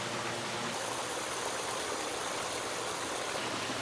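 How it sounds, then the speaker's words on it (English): Water pours steadily over a koi pond's biological waterfall filter, a constant, full rushing wash with no pauses, close and fairly loud, no voices. "the final fundamental we've done on this pond is nitrifying the water through a biological waterfall filter"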